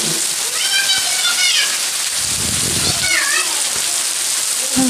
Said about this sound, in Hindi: अभी जब मैं वॉश ओवर कर रही हूँ बारिश हो रही है, आप देख सकते हैं कितनी तेज बारिश हो रही है।